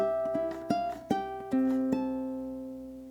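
A plucked ukulele picks out a short melody of a few notes, close and clear, with the final note ringing out and fading.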